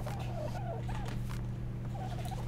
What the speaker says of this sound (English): Terror birds laying all kinds of eggs.